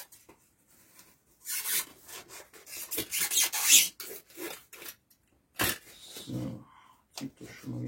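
Leather strap trimmed flush with a knife, giving dry scraping and rasping cuts in irregular bursts, close and moderately loud, with gaps of quiet between strokes and a brief voice at the end.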